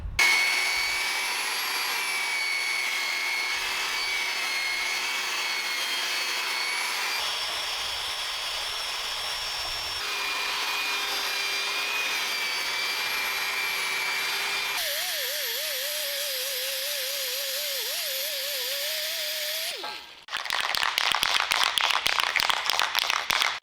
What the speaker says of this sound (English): I just want to try this tool right here, whatever it's called, with this brush on it. I just want to get all the loose rust off.